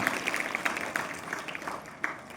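Applause from an audience at a high school Gujarati poetry recitation competition: a dense, steady patter of many hands clapping at once, moderately loud and close, sustained for a couple of seconds with no voice over it.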